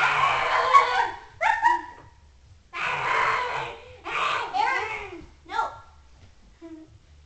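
A cartoon dog in an Angry Birds game barks, yips and whimpers in a string of bright, bouncy bursts with short gaps between them. The bursts are loud and close.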